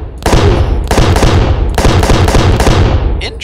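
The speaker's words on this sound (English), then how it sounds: "Auto cannon." Autocannon fire in the Space Engineers game, loud rapid bursts of heavy cracking shots in about four groups with short gaps between them, close and dense, with no voices.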